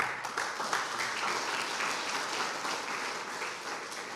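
A church congregation applauds in praise, a dense, sustained wash of clapping that holds steady throughout, loud and without talk.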